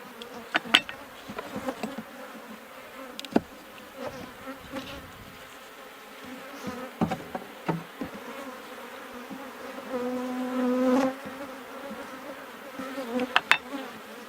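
Honey bees buzz steadily around an active hive, a continuous close hum with individual bees droning louder as they pass near, and no talking.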